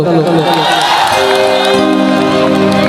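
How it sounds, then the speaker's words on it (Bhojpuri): A large crowd at an outdoor stage show cheers and claps loudly for guests, a dense roar of applause and shouts that gives way to a sustained musical tone. "एक बार जोरदार ताली बजा दो"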